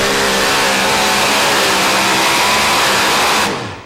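A pulling truck's engine screams at full, loud revs, holding a sustained high-pitched roar for several seconds before it cuts off abruptly near the end.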